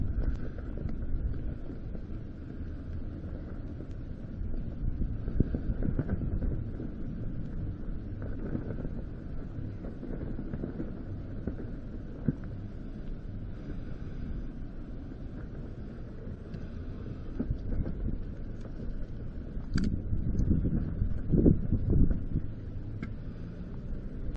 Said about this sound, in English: Really, wind. Really, wind.